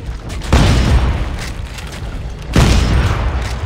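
Gunfire and explosions in the sci-fi horror game Dead Space 3 form a loud, continuous barrage, with two heavy blasts punching through the rumbling roar about two seconds apart.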